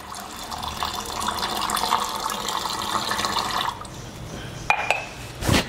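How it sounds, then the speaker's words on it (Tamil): Cold water poured from a tap into a container while preparing a Tamil drink, a steady splashing stream that stops abruptly, followed by a couple of sharp glassy knocks. "இப்போ இதில் வந்து தண்ணி ஊற்ற போகிறோம், ஒரு குளிர்ந்த நீர்."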